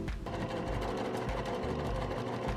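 A sewing machine stitches a cottagecore milkmaid dress, running with a steady, rapid mechanical whir and a pulsing needle rhythm that stays loud and close for the whole stretch, with no voices.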